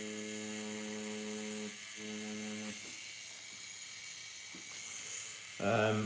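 A tattoo machine runs its needle on fake practice skin, giving a steady electric buzz that stops and starts in bursts, with quieter gaps and a final louder burst.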